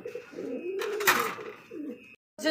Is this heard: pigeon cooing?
yes